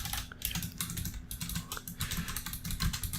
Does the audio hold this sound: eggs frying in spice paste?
no